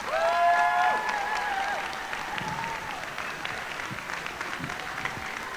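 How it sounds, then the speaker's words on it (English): Audience applause for the performers at a pops concert, steady and dense clapping through the whole stretch, loudest at the start and easing slightly, with a sustained whistle-like tone rising above it early on. "how about another big round of applause for all the performers tonight?"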